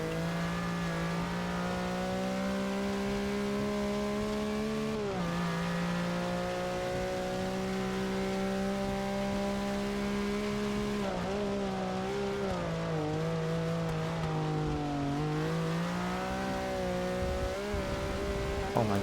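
Race cars speeding through a wet-weather race in the video game Forza Motorsport 6, engines droning and shifting pitch as they accelerate and brake through corners, loud and continuous with no talk.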